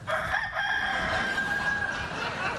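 A loud, sustained rooster crow sound effect stands in for a monkey in a late-night talk-show comedy bit. The drawn-out cock-a-doodle-doo is heard on its own.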